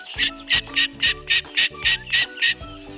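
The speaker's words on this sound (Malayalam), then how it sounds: "ഇതാക്കണം നമ്മൾ താറാവ്." Ducks quack in a steady, rhythmic series of about ten loud, nasal calls, close by, with no talking.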